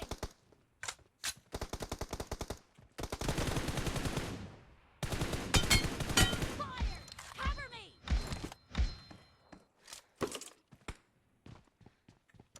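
Bursts of gunfire from a PUBG Mobile 1v1 arena match, rapid automatic volleys and single shots alternating with brief pauses, loud and close throughout, with scattered thuds and footsteps between firefights.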